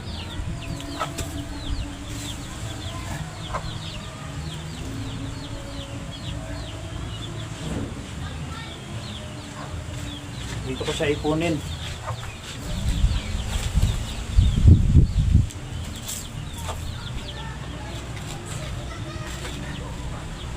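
Chickens cluck and stir around a yard where their manure collects under a roost, faint fowl calls and wing flaps scattered over steady outdoor noise, with a louder burst of movement near the end and someone talking intermittently.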